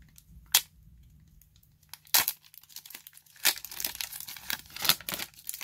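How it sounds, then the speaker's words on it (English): Crisp snips and tearing crinkles of card packs being cut open with scissors, a few sharp cuts followed by rapid rustling, close up. "Just using scissors to open these bloody packs"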